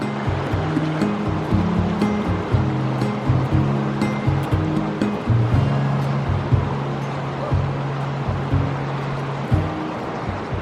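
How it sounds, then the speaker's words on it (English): Rushing water of the Arkansas River in Colorado, a steady loud churn of rapids and current running without pause under what sounds like a low rumbling hum. "This is the Arkansas River in Colorado."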